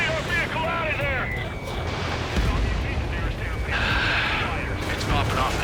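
Anti-aircraft fire and explosions in the Ace Combat 7 combat flight video game, heavy rumbling booms and bursts layered over dense low-end roar, with radio voices talking over the action.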